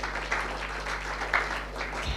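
A church congregation at a Sunday worship service of a Jakarta praise ministry team applauds for a visiting group, a steady wash of mid-level clapping throughout with a faint low hum beneath.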